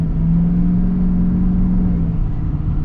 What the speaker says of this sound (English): we are now gonna get our acceleration here with the old Duramax